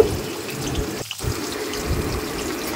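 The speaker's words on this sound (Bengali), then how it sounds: "কিশমিশগুলোকে এখন আমি ভেজে নিচ্ছি।" Raisins frying in hot oil for a basanti pulao of basmati rice give a steady, close sizzle that runs without a break, with a brief dip about midway.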